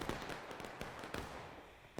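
Rifle gunfire in a large-scale video game battle with hundreds of players, a rapid scatter of sharp cracks and pops, some near and some distant, spread irregularly across a couple of seconds.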